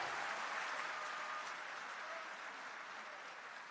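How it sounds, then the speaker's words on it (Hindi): Faint, steady audience applause at a golden jubilee ceremony in Nagpur, a dense wash of many hands clapping continuously at a distance and slowly tapering off. "बहुत सारी तालियां एक बार फिर से होनी चाहिए"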